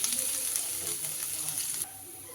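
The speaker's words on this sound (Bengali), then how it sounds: "আদাটাকে একটু তেলের মধ্যে এইভাবে নাড়িয়ে চাড়িয়ে নিতে হবে।" Grated ginger sizzles in hot oil while being stirred in the pan: a soft, continuous frying hiss that fades slightly near the end.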